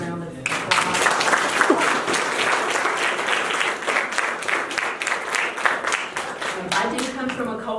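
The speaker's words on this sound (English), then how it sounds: "give them a big round of applause" An audience at a historic artifact donation ceremony breaks into a big round of applause, dense clapping that swells quickly and stays full before thinning near the end, with a voice faintly audible over it.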